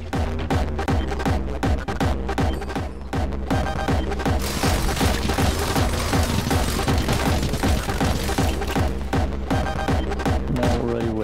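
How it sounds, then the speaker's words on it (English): Rapid, continuous machine gun fire in the video game Anger Foot, a dense rattling fusillade with booms and crashes that stays loud for the whole stretch. "Give me the machine gun."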